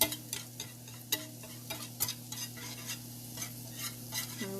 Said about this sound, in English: We just want them to go translucent and kind of get that raw taste out of the onion.